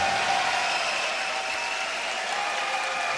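A crowd at a Polaris grappling event in Dublin applauds the winner with steady, sustained clapping throughout.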